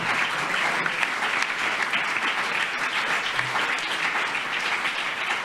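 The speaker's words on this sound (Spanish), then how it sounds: "Denle el aplauso mejor al Señor" A church congregation breaks into sustained, dense applause, a continuous wash of many hands clapping loudly and evenly throughout with no talk over it.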